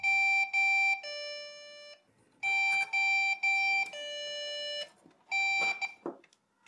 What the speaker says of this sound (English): we do get those BIOS beep codes and nothing on the screen.